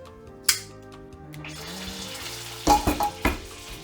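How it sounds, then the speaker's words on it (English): Butter melting in a metal pan gives a soft, low sizzle beneath a few sharp clatters and knocks of cookware, near and fairly quiet. "Butter's almost melted. You can hear it."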